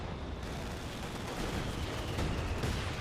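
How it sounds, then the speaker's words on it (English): Artillery fire in the Company of Heroes 2 real-time strategy game, a dense continuous rumble of explosions and gunfire that stays loud and constant throughout, with no voice. "Got artillery fire there."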